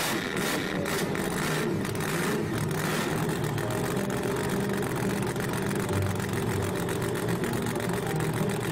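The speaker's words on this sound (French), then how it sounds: "Démarrons le moteur." A cartoon monster truck's engine fires up with a few rough bursts, then settles into a steady loud rumbling idle that runs without pause.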